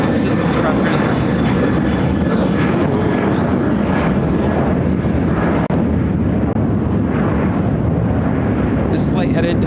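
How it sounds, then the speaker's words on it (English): A United Airlines Boeing 737-800 jet at Chicago O'Hare, flying to Nassau, makes a loud, steady engine rumble that stays strong for several seconds up close. "This flight headed to the Bahamas, Nassau, United Airlines 2401 on a 737-800"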